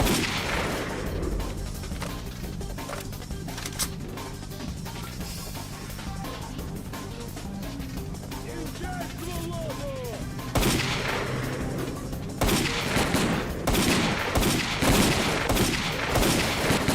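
Gunfire in the video game S.T.A.L.K.E.R.: Clear Sky, dense bursts of rapid shots rattling continuously over a steady in-game background, growing louder and sharper toward the end.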